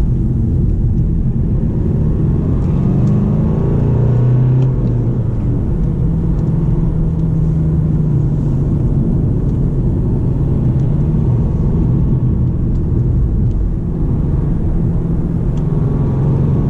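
An Alfa Romeo Giulia driven fast along tight rural back roads in Italy, its engine and road noise a steady, loud, continuous rumble from the cabin throughout, with no talking.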